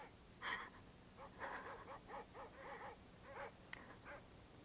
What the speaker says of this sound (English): Those dreadful dogs. They sound so terribly ominous.